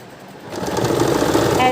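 A sewing machine stitches a blouse neckline, starting up after a quiet moment and then running in a close, steady, loud whir to the end.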